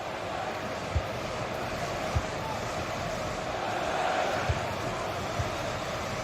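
Stadium crowd in FIFA 23 during a PSG versus Chelsea Champions League match, a steady, broad roar with a few soft thumps of the ball over it.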